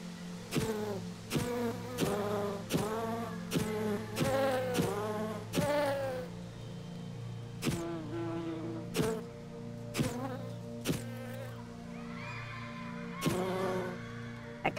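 Bees buzzing in a relaxing hidden object video game, a series of short, close buzzing bursts in quick succession, then sparser buzzes with a steady hum underneath.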